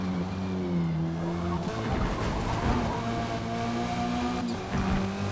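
A touring-class race car in Forza corners at speed, its engine note rising and falling with gear changes and a brief tire squeal, loud and close with no talking.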